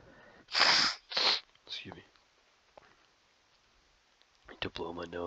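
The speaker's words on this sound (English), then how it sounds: "To blow my nose." A person blows their nose in two short, forceful honking bursts close to the microphone, followed by quiet shuffling and then a voice starting to talk.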